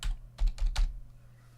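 Phone number typed on a computer keyboard, a quick run of four or five close, crisp key clicks in a burst, then quiet.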